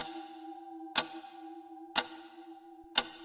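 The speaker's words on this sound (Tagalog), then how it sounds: "walang maririnig kundi ang tiktak ng orasan." A wall clock in a quiet office at night ticks three times at steady one-second intervals, sharp and clear over a quiet, constant air-conditioner hum.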